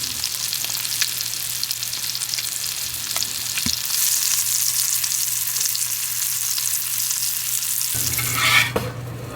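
Fish sizzles and fries steadily in a hot pan, a continuous crackling hiss with occasional pops and a brief louder flare near the end, heard close up with no talking.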